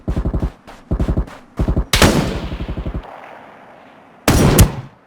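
Bursts of automatic gunfire from a Ring of Elysium match ring out in rapid volleys, short rattling strings separated by brief pauses, then a longer burst that fades into echoing decay before one more loud closing burst.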